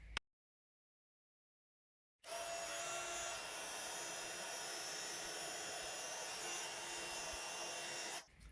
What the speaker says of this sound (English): I'm going to heat emboss those in gold.